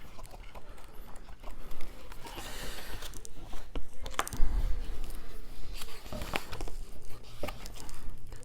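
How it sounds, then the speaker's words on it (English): Pages of a Warcry Sundered Fate rule book are flipped quickly, producing repeated close papery rustles and flaps over several seconds. "So we're just gonna flip through this real quick."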